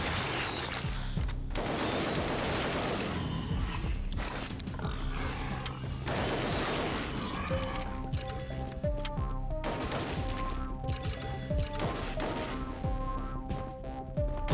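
Cannon blasts and rapid gunfire ring out in the first-person shooter Project Warlock II, a dense, continuous barrage of loud impacts, mechanical clanks and creaks layered over game music.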